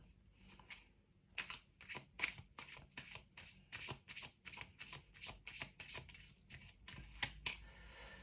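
Tarot cards shuffled by hand in a quick run of crisp riffling flicks and soft slides, close up and fairly quiet, with no one talking.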